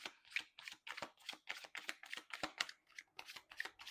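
Tarot cards being shuffled and drawn from the deck, a quick run of crisp papery flicks and slaps in a steady rhythm, close and fairly quiet.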